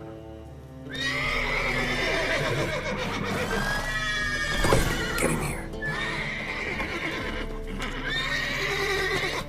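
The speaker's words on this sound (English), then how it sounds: "Gotta calm all the horses before they wake the guards." Several horses neigh and whinny loudly, one after another, over a low hum, with a brief spoken line and faint hoof clops, in the video game The Witcher 3: Wild Hunt.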